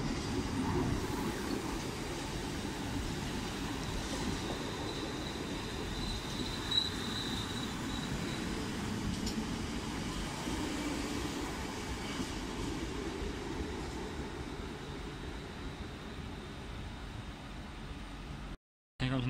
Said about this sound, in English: Next arrival coming in from Birmingham New Street is 350-240.